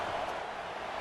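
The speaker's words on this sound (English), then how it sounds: "Listen to this crowd just shaking the girders of this place" A packed stadium crowd roaring at a Florida Gators versus NC State game in College Football 25, a dense, sustained wash of cheering that fills the whole second.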